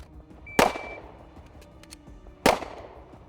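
Two sharp, loud pistol shots about two seconds apart during a shooting drill with a Glock or 2011 handgun, each a hard crack with a short ringing tail, no talking.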